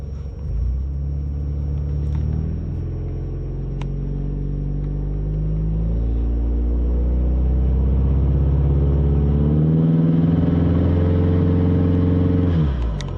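Ford Mustang EcoBoost launching in second gear, the engine starting as a low rumble and rising gradually in pitch and loudness as the car pulls, close and unbroken until the revs drop at the end.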